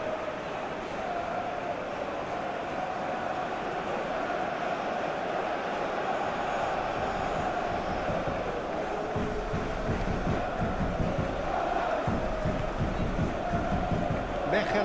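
Stadium crowd in the football video game PES 2021 during a Club Brugge vs Barcelona Champions League match, a steady dense roar and murmur that swells slightly toward the end.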